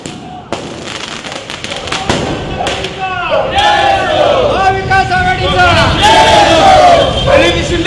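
Victory celebration for Praniti Shinde in Solapur, with firecrackers bursting in sharp cracks and thuds at the start, then a loud crowd shouting and chanting slogans over continuous crackling and popping.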